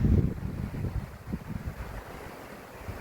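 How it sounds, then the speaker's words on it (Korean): Strong wind gusting across a high mountain in deep-winter cold, a low, rumbling buffeting roar close to the microphone that swells and eases with no voices. "바람이 세차게 불어서 어, 한겨울이 되는 것 같습니다."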